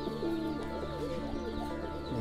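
Fighter pigeons coo close by in continuous low, warbling calls that overlap one another, with no talking.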